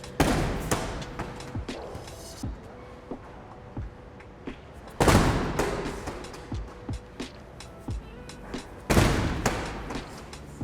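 A medicine ball thrown hard with hip rotation during power training hits with a few loud, sharp impacts, each followed by a short decay, spread across the clip with quieter thuds and rustles between.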